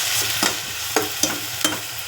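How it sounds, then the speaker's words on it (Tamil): A steady sizzle of coarsely ground onion paste, curry leaves and green chillies frying in a pan for a Karamani gravy, with several soft scraping stirs of the spoon breaking through the hiss. "எல்லாம் வதக்கி விட்டுக்கலாம்."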